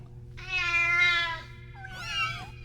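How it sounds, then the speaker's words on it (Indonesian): A cat gives two meows close by, a long drawn-out cry followed by a shorter rising one, clear over a faint low hum. "Suara meong."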